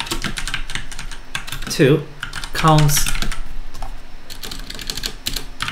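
Rapid keystrokes of code being typed on a computer keyboard, close and steady, with a voice speaking briefly over the clatter.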